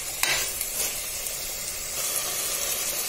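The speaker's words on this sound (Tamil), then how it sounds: "இந்த மசாலா கூட நல்லா கோட் ஆகிற மாதிரி நல்லா கலந்து விட்டுருங்க." Cauliflower frying in biryani masala in a pan as it is stirred, giving a soft, steady sizzle and hiss with a brief scrape of stirring near the start.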